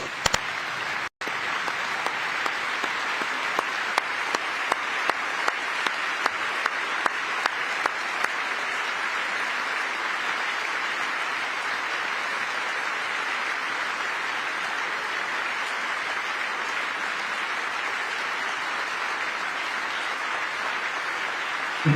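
Sustained applause fills a joint session of Congress during a presidential speech, a dense, even wash of clapping that holds steady for over twenty seconds without a voice breaking through.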